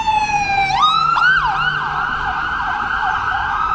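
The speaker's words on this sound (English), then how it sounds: "Got an ambulance trying to get through." An ambulance siren wails loudly and close by on a Toronto street near Yorkville, its pitch sweeping up and down over the low rumble of traffic.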